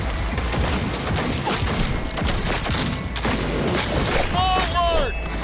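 Rapid gunfire in Cyberpunk 2077, dense bursts of shots and heavy thumps rattling almost nonstop, with ringing, whining tones near the end; a player's voice talks over the shooting.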